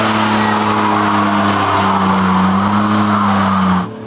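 A carbon-bodied BMW M4 tuned to 1000 hp held in first gear with left-foot braking, tires squealing loudly and steadily over a droning engine close by, then cutting off abruptly at the end.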